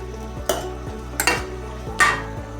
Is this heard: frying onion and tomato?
yes